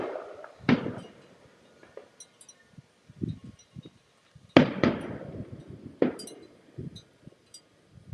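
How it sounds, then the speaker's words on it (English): Fourth of July fireworks bursting outdoors near a backyard, a few sharp booms and crackles spaced several seconds apart, moderately distant, with faint rustling between bursts and no talk. "I can hear them. Let's see if we can see some fireworks."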